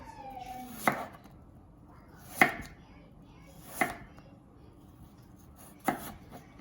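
A knife slicing apples thinly on a cutting board for a galette, four sharp distinct chops spaced about a second or more apart, close and clear over quiet background, no talking.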